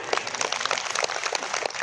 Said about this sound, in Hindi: तो मैम के लिए भी जोरदार तालियां